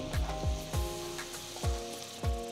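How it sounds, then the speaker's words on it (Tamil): Chopped onion sizzles in butter in a pan while a utensil knocks and scrapes in a steady rhythm, roughly three strokes a second, close by. "ஒரு பெரிய வெங்காயம் பொடியை நறுக்குனது சேர்த்து வதக்குங்க"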